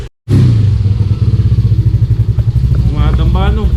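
Yamaha Aerox scooter with a superstock CVT setup, engine revving loudly and close with a pulsing, chattering note, a voice briefly speaking near the end.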